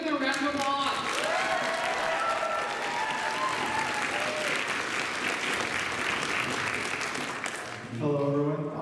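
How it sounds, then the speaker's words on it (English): An audience at a cosplay contest at Magfest claps in sustained, dense applause for the entrants, loud and steady for several seconds, with a voice speaking over it at the end. "let's give them a round of applause."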